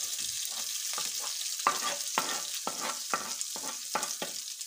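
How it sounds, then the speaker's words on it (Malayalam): Green chili, ginger, garlic, shallots and onion fry in oil in a pan, a steady close sizzle broken by repeated rhythmic scrapes of a spoon stirring them, about a dozen strokes. "ഇതിൻ്റെ രണ്ട് തരി ഉപ്പ് ഇട്ട് നമുക്ക് നന്നായി വഴറ്റിയെടുക്കാം"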